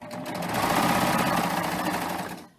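A serger runs steadily as it stitches and its built-in knife trims the excess fabric edge, a fast continuous mechanical whir that holds for a couple of seconds and then stops.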